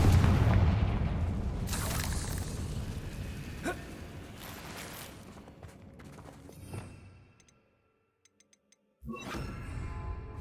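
Spell blasts from a fire curse in Hogwarts Legacy burst out as loud booming explosions over a dense rumbling game mix, fading into near silence before another heavy crash hits at the end.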